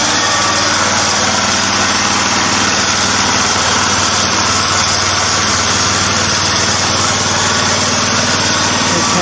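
A generator engine fitted with a new muffler runs steadily and loudly, a constant close-up drone with a rapid rhythmic exhaust pulse and no speech.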